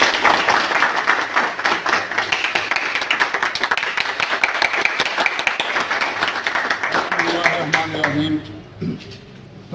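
An audience claps to welcome a speaker at a public gathering, brisk clapping running for most of the stretch with voices mixed in, then tapering off toward the end.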